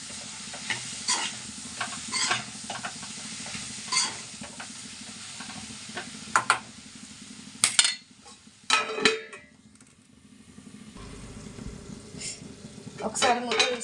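A lid clanks onto a pot of simmering cucumber (dosakaya) curry. Metallic clinks and a scraping rattle cut through a soft, steady sizzle, with quiet talk in the background.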